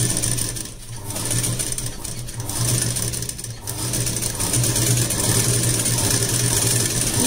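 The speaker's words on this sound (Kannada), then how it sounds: "ಅದನ್ನು ಕೂಡ ಸ್ಟಿಚ್ ಹಾಕೋಂತ ಇದ್ದೀನಿ ನಾನು" A sewing machine stitches the front of an ari-work blouse, a close, steady mechanical whirr with fast regular needle clatter that runs nearly continuously with a few brief slowdowns.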